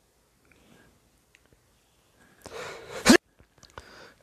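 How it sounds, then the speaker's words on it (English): A sharp, loud sneeze bursts out mid-scene in the Star Wars Knights of the Old Republic video game, preceded by a short rising breath and followed by faint quiet sounds. "I didn't want to sneeze in everyone's ear."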